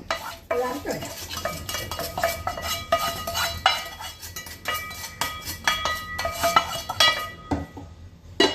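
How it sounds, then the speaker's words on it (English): Tamarind being stirred into vatha kuzhambu in a metal vessel: a spoon scrapes and clinks against the sides again and again in a busy, uneven rhythm, close and fairly loud, with no talk. "We'll mix this with the vatta kolambu."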